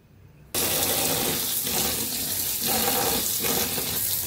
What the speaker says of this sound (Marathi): आता फव आपण धुवून घेऊया एकदा पाण्याने